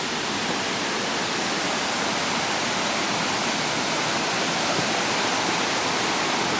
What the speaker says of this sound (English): a waterfall flowing into the town lake here in Asker